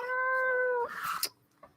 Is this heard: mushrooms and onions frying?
no